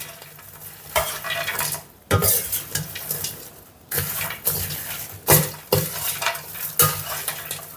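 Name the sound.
stirring okra fry in a pan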